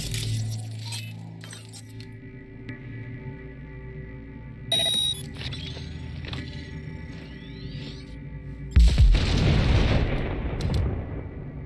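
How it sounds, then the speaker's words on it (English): A grenade detonated by quickhacking in Cyberpunk 2077 gives one loud, booming blast with a long rumbling tail near the end, after stretches of electronic game tones and small clinking effects. "Detonate the grenade."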